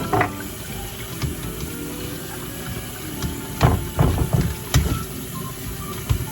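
Tap water runs into a sink as food is rinsed in a colander, a steady close splashing flow with several louder clattering bursts of handling and water hitting the metal.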